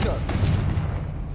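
Confringo, a fire blast spell in Hogwarts Legacy, goes off as a loud, dense booming whoosh with a crackling rumble that fades out toward the end.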